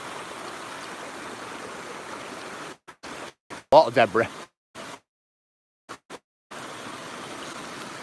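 A big waterfall with debris piled in front of it gives a steady, broadband rushing wash that fills the start and end, broken by short dropouts while someone talks over it.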